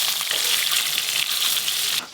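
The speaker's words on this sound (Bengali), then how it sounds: "ইলিশ মাছ তো শুধু এপিট ওপিট উল্টে একদম হালকা করে ভেজে তুলে নেব" Hilsa fish pieces fry lightly in hot oil, giving a steady, dense sizzle that runs close and loud almost throughout, then drops off abruptly near the end.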